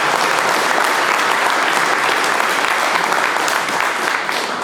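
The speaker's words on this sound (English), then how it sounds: "so one more round of applause for the panel." Loud, sustained applause from a conference audience honoring a construction industry apprenticeship panel, a thick continuous roar of clapping hands close to the microphone.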